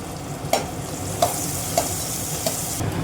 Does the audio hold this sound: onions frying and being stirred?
yes